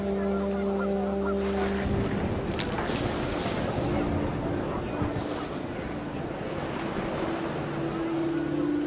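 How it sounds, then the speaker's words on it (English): Geese honk in a panic amid gusting wind in What Remains of Edith Finch, several loud calls cutting through a dense wash of wind and rain-like noise, with a steady low drone and a brief rising cry near the start. "The wind picked up and panicked geese appeared and quickly went."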